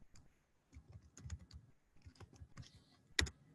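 Quiet typing on a computer keyboard: scattered bursts of soft key clicks with short pauses between them, ending on one sharper, louder keystroke, close and with no talking.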